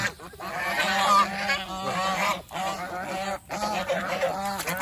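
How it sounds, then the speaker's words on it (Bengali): A male goose honks repeatedly in loud, close, nasal bursts, with a few short pauses between calls. "এই যে এটা একটা মেল রাজহাঁস"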